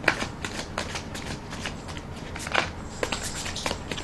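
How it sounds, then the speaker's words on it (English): Tarot cards being shuffled up close, a run of quick riffling flutters and soft snaps in an uneven rhythm, with no talking. "I'm gonna shuffle."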